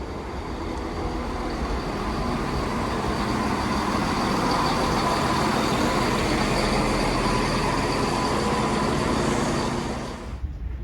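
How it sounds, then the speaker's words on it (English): An East Midlands Railway Class 222 unit, 222022, arrives at Beeston station on the service from London St Pancras to Nottingham, a steady loud rumble and roar from the train passing close by that drops away sharply at the end. "here comes the 12:42 East Midlands Railway service to Nottingham from London St Pancras, 222022."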